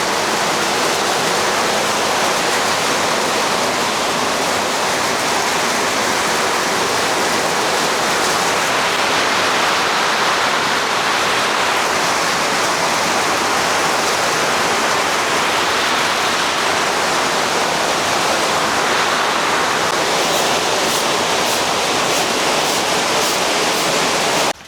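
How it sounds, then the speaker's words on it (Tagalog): Heavy rain hammers down in a constant, loud roaring hiss that barely changes over a long stretch, with faint ticking near the end. "Ang lakas ng ulan"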